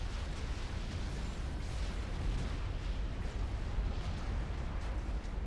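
Missile and cannon explosions from the strategy game Supreme Commander: Forged Alliance form a dense, continuous rumble of booms and blasts, loud and unbroken throughout.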